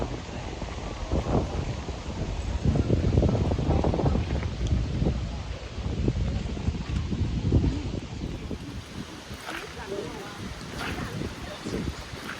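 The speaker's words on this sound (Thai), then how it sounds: "ลมแรง" Strong wind buffets the microphone outdoors at Don Tan district, Mukdahan province, near a river crossing, a loud rumbling roar that swells and eases over several seconds, fading to lighter gusts and rustle near the end.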